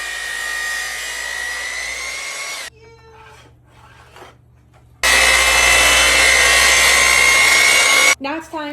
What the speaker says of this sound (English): because we're using the miter saw, we have to flip it